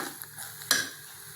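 Halwa stirred in a pan yields a soft scrape and one sharper clink of a utensil against the metal, over a faint background sizzle.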